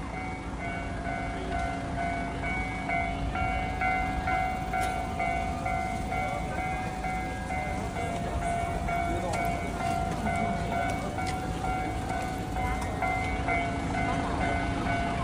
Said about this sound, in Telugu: కీహన్ రైల్వే ఫుషీమి ఐనారి స్టేషన్ అంట.